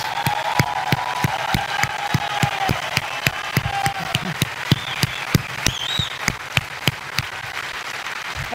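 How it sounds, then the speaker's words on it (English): A crowd at Google I/O 2012 applauds the bikers after their Google Glass stunt, a close, loud run of claps over a broader crowd with brief cheers and voices mixed in. "a big round of applause for our bikers"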